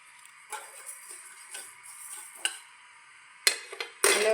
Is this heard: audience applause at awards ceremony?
no